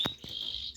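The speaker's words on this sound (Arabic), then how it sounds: "صوت البلابل هسه" Bulbuls chirp on a farm where canaries and zebra finches are also kept, giving a brief bright sustained tone with a couple of short sharp notes, close and fairly clear.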